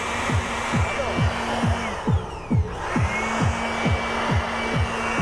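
A 150 electric blower runs steadily at close range, its continuous whirring drone broken by a regular series of brief pulsing thumps.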